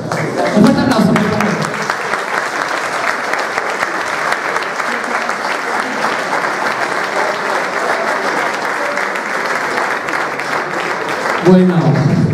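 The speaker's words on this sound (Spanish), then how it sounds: "Un fuerte aplauso." Steady audience applause at a Christmas gala featuring a municipal band, sustained and even for the full length, with brief voices heard at the start and end.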